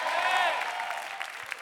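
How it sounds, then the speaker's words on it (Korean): Church congregation giving a short burst of encouraging applause for exam students at a worship meeting, clapping under a speaking voice that fades quickly. "격려의 박수요."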